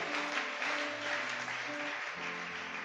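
Church congregation clapping for the Lord during a worship service, steady full-room applause sustained throughout with no speech over it.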